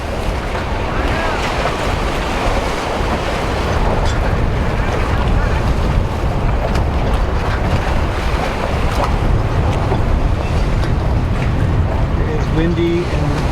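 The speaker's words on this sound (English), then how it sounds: "Oh, here comes a boat, Janice." A boat engine drones beneath strong gusting wind and lapping waves on Lake Ontario near Snake Island, with steady broadband rumble throughout; no clear pass-by peak stands out.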